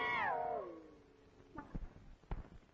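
At night a cat gives one drawn-out meow that slides downward in pitch, followed by a few soft knocks and thuds nearby in a quiet room.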